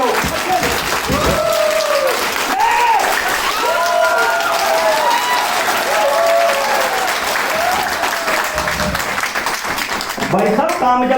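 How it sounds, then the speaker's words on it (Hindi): An audience at a training event claps steadily for an honored guest, with sustained loud applause under a voice talking over a microphone throughout. "एक बार जबरदस्त मैं क्लैपिंग चाहूंगा गुप्ता जी के लिए"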